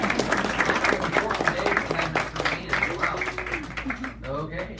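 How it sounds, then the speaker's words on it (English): An audience at a graduation claps steadily, with voices talking over the applause and becoming clearer near the end. "Feel free to clap after every shot."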